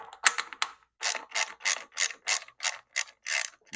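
Ratchet wrench clicking as it turns a 12mm bolt back in on a Kawasaki Vulcan 750 motorcycle during stator replacement, a close series of about ten short, evenly spaced ratcheting bursts, clear and alone.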